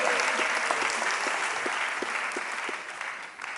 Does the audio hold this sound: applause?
yes